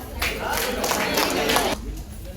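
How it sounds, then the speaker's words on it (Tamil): Audience applause at a Tamil motivational talk, a dense wash of clapping that swells for about a second and a half and then drops away, loud and fairly close. "கைத்தட்டலாமே கொஞ்சம்"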